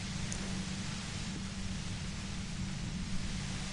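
Broad, steady static hiss of white noise, loud and unbroken from start to finish, with a faint low rumble beneath it and no speech.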